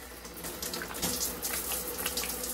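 Hot water runs steadily from a tap, splashing into a sink while a lotion pump is rinsed out, with a continuous close hiss and small gurgling fluctuations.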